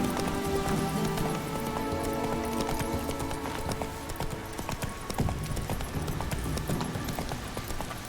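A horse runs in The Witcher 3: Wild Hunt (NextGen). Quick hoofbeats patter continuously beneath a dense, loud bed of game music and ambience for the whole stretch.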